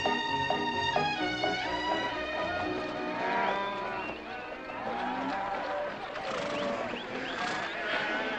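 Cattle lowing in the back of a truck, several overlapping moos over a busy musical score with talk mixed in, loud and continuous throughout.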